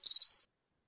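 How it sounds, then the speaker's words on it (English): A played cricket sound effect: a short, bright burst of rapid insect chirping lasting under half a second, alone and then cut to silence. "And the Crickets are here with their latest album. Wow. Crickets in stereo."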